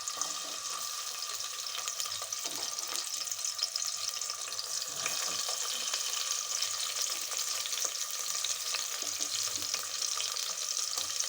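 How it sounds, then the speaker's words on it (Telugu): Onions frying in about four tablespoons of oil inside a pressure cooker for vegetable pulao, giving a steady, close, continuous sizzle throughout with no talking. "ఆనియన్స్ లైట్గా గోల్డెన్ కలర్లో వచ్చినప్పుడు కొంచెం మిక్స్ చేసుకొని"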